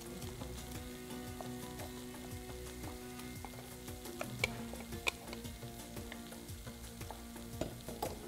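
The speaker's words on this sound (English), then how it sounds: "The tomatoes are now grated and the pan is preheated. Add the tomatoes to the pan." Grated tomatoes sizzle steadily in a preheated pan for a Moroccan chicken tagine, a constant frying hiss with light clicks and occasional sharper pops, close and alone with no talking.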